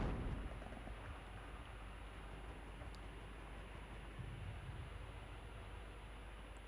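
Artillery fire landing on a Flak 41 gun in a World War II strategy video game, heard as a sustained, dense rumble of distant explosions with steady roaring noise throughout and no voices.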